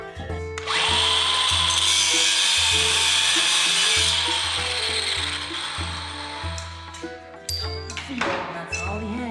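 A small high lift jack ratchets in a farm workshop, a loud run of regular mechanical clicks and clunks with a whining tone over them, tapering off near the end.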